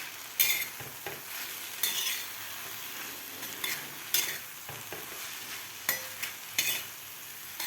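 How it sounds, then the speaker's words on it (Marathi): Ambadi (roselle) leaves being stirred with salt in a pan for a rustic thecha, giving a soft steady sizzle broken by irregular scraping strokes of a spoon, close and moderately quiet, with no talking. "मीठ घातल्यानंतर आपल्याला व्यवस्थित हलवून घ्यायचे आहे"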